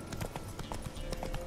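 Horse hooves clip-clopping in a steady trotting rhythm in The Witcher 3, over a dense, continuous background of game sound.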